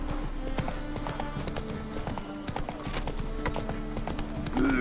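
Hooves of the horse Roach clip-clopping along in The Witcher 3 video game, a rapid, even trotting beat over faint background noise, with a short snort near the end.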